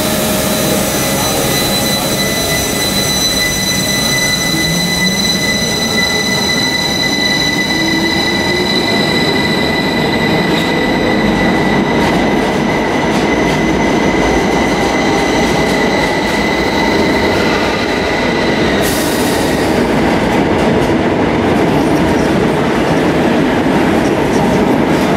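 A TfL Rail train ride near Heathrow: a loud, continuous rumble of wheels on track with a steady motor whine and faint high squeals, heard from inside the carriage with no talking.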